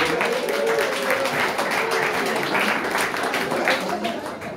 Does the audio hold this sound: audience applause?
yes